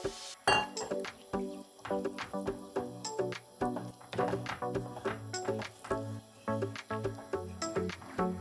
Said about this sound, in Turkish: İki buçuk su bardağı soğuk suyu ekleyip topaklanmayı önlemek için hızlıca karıştırmaya devam ediyoruz.